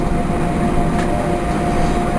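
Heavy, steady engine rumble and whine from an aircraft taxiing at an airfield, loud and close with a constant low drone and a high tonal hum.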